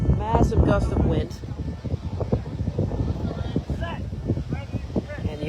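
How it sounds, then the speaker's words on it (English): Heavy wind batters the microphone outdoors at a beep baseball game, a loud continuous rumble that swells and eases, with a voice briefly audible near the start. "That is a strong wind."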